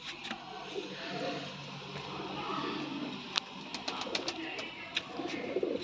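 Pigeons coo softly and repeatedly at a distance from a loft of racing pigeons, with faint clicks and scattered background noises.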